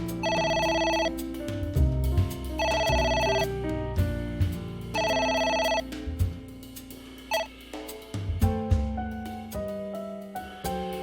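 A telephone in the AI: The Somnium Files video game rings in loud, repeated electronic bursts, three long rings at an even pace, followed by a scattering of shorter tones and soft musical notes.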